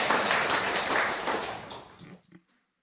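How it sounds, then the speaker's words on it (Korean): A church congregation applauds after a choir's hymn, a dense wash of clapping that holds steady, then thins and stops abruptly near the end, leaving a few last claps. "우리 다시 한번 큰 영광을 박수로 올려드리겠습니다."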